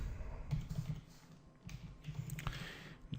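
Fingers type on a computer keyboard, with soft irregular key clicks in short bursts and a brief pause in the middle, quiet and close.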